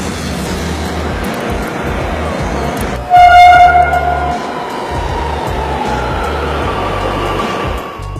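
A Kochi Metro train rumbles steadily into Kalamassery station and sounds a loud horn toot partway through, then keeps rolling with a rhythmic clatter.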